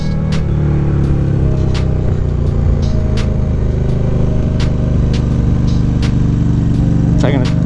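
A motorcycle engine drones steadily and loudly while riding on the road, a constant low rumble with wind noise, and a person talks over it.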